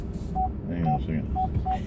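Repeating short electronic beeps from a flight combat video game's missile warning tone, four evenly spaced pips over a low rumbling engine drone with someone talking.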